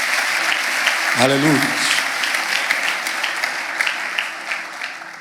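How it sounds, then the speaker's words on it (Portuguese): Sustained applause from a church congregation fills the sanctuary, steady and dense throughout, while a voice briefly calls out over it near the start. "isso já merece aplauso"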